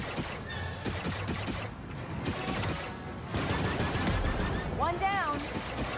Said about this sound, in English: Turret activated